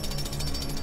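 Power drill boring into a wall inside the video game Lego Batman 3: Beyond Gotham, a steady, loud, buzzing mechanical grind running without a break and heard alone.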